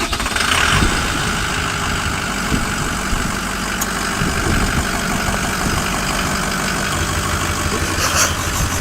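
A 2005 Ford F-350 Super Duty diesel truck with a six-speed manual runs steadily up close, with a loud, continuous engine rumble and a faint high turbo whistle carried through the whole stretch.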